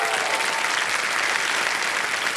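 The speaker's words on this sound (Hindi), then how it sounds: "तालियां बज जाए इनके लिए" A studio audience on the quiz show Kaun Banega Crorepati claps steadily and densely, a loud, continuous wash of many hands with no talk over it.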